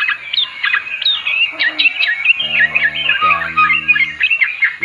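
Close, lively chirping and trilling pours from a hand-held sooty-headed bulbul without pause, and a voice briefly speaks beneath the song partway through.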